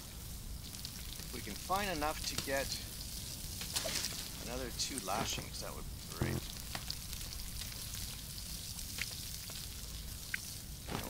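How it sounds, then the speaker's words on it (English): Fire crackling and water dripping in the video game Stranded Deep, a constant sizzling, popping bed with scattered drips. Someone talks over it at intervals. "You can hear the fire and the water dripping"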